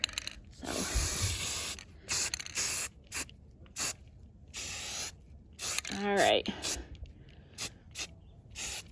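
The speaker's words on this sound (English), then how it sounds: "You want just long, continuous sprays that are light, like wispy." Short bursts of an aerosol spray can hiss in quick succession while an HVAC vent cover grate is painted outdoors. The light, separate sprays are spaced by brief pauses, with a few quiet spoken words in between.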